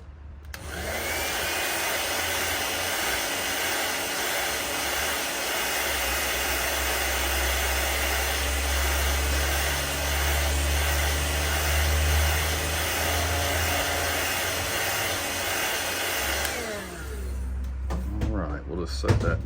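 A heat gun runs continuously for about seventeen seconds, a loud steady blowing whine heat-setting paint on a swimbait lure, then cuts off near the end.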